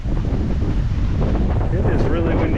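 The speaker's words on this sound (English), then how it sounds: "It is really windy today." Strong gusting wind roars constantly across the microphone outdoors near a highway, a loud, dense rumble that buffets throughout with no pause.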